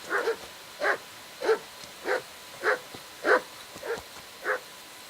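Dog barking in the medieval game Kingdom Come: Deliverance, eight evenly spaced single barks about two-thirds of a second apart, moderately loud and clear with no talk.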